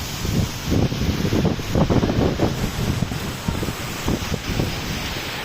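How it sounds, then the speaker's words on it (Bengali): Strong storm wind blowing across a river, roaring and buffeting the microphone in gusts over a constant rush of waves. "দেখেন দেখেন নদীতে কি পরিমাণ বাতাস বইতেছে"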